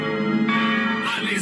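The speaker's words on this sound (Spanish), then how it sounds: "Al escuchar las campanas de la Basílica de Guanajuato redoblar, señalando las 11 de la noche, el Catrín llegó" The bells of the Basilica of Guanajuato in Mexico ring out at eleven at night, a loud, sustained metallic tone with rich overtones that shifts and swells over a brief stretch.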